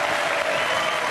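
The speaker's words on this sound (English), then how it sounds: "Let's give him a nice round of applause" A studio audience on the game show Strike It Lucky applauds a contestant, giving a brief, dense, even roar of clapping that stays close and loud throughout.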